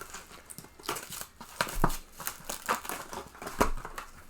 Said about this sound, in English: But I have extra plastic wrap from when I'm doing taxidermy. This makes the worst noise.